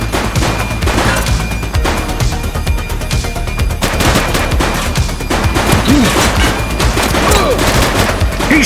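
Sustained gunfire in the police game The Precinct, with dense rapid bursts and crackling shots mixed with crashes, loud and continuous throughout.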